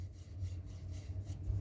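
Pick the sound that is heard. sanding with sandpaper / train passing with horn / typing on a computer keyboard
sanding with sandpaper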